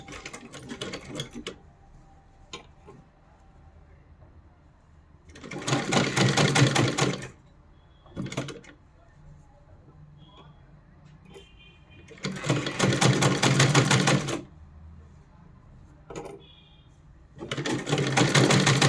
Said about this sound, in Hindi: तो देखिए हमने इस तरीके से सिलाई कर दी